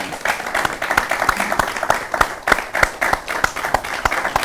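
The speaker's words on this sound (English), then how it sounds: "Please, a round of applause for him." Audience applause greets a guest life coach being welcomed onto a Nigerian talk show, a steady burst of many hands clapping close by, loud and continuous throughout.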